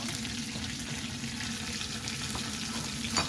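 Onion, curry leaves and garlic paste fry in a little oil for beetroot biryani, a steady close sizzle that continues evenly, with a small clink near the end and no talking.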